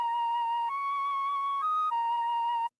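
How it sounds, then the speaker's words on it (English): A dry Mellotron flute sample plays a short melodic line of three or four sustained, breathy notes with steady harmonics, alone and untreated, then cuts off cleanly. "So the flute dry would sound like this."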